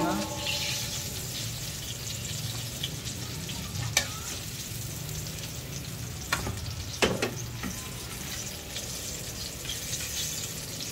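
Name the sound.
chicken wings frying in oil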